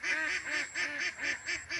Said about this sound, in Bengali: সবাই হাঁসের সুন্দর ডাক শুনুন